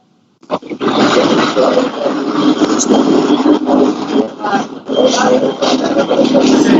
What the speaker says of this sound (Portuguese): É algum carro que passou.